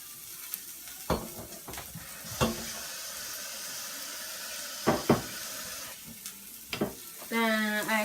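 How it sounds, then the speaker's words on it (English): Vegetables tip into a hot pot holding whiting fillets and shrimp and sizzle steadily, with a few sharp clatters of stirring and a brief burst of running water near the end, close by with no talk. "I pour my vegetables all over it, like so."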